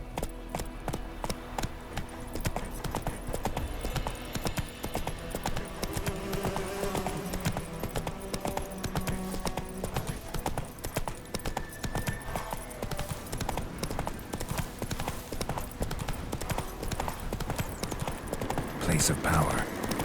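Roach, the horse in The Witcher 3, trots with rhythmic clip-clopping hooves throughout, crisp and close, while a voice speaks briefly over the steady footfalls.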